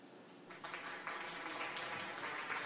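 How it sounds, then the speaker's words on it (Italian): A short applause sound alert plays on a livestream, rising at once into steady, dense clapping that holds fairly quiet and even to the end. "Dablogistica 1 ha suonato applausi per 0 bits"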